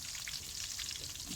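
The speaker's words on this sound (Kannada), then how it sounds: "ಸ್ವಲ್ಪ ಅದನ್ನು ಚೆನ್ನಾಗಿ ಎಣ್ಣೆಲಿ ಫ್ರೈ ಆಗ್ತಾ ಇರಲಿ." Coriander, cumin, tamarind, cinnamon and cloves frying in oil on a low gas flame, a soft, even, continuous sizzle with faint crackles, close and without voices.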